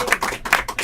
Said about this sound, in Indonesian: Tepuk tangan dulu buat dia.